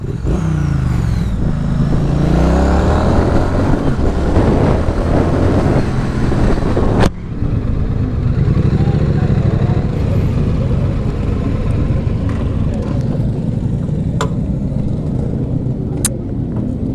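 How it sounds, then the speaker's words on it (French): A Triumph Street Twin motorcycle engine roars and revs close by, pitch rising and falling through gear changes, with wind rushing over the microphone. "le son est juste énorme sur cette moto"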